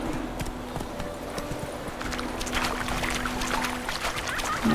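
In The Witcher 3: Wild Hunt, a horse's hooves clip-clop at a steady walking rhythm, moderately close and continuous over soft outdoor ambience.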